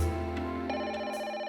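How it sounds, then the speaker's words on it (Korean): A telephone bell rings steadily and loudly throughout, a sustained electronic tone with one rising shift partway through, heard alone with no voices. "분주하게 울리는 전화벨 소리에 잠에서 깨니"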